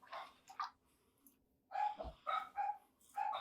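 A single dog barks several times in short bursts, moderately close, with quiet pauses between the barks.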